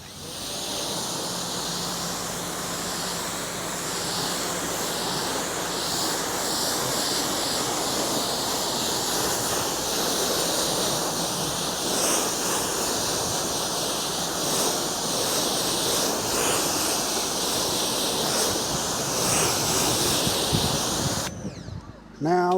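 Steady broadband spray of water hosing down a car that is still soapy after washing, a continuous hiss running for about twenty seconds before cutting off abruptly near the end.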